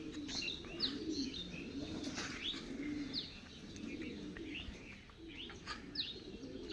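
Freshly bathed pigeons being carried into a house, with low, steady cooing under a string of short, bright chirps and occasional wing rustles, close by and fairly continuous.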